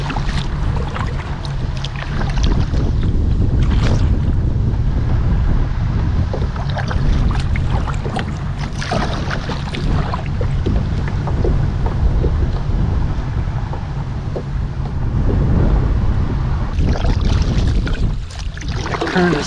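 Strong headwind buffets the microphone during a kayak paddle on Hunter Creek, a loud continuous roar with gusty swells and faint water and paddle sounds beneath, no voices.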